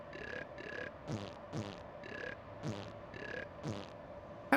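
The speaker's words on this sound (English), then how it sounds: "Oh, I forgot you have a burp button." Repeated belching from a Grand Theft Auto character, about eight loud close burps in quick regular succession over a faint game backdrop.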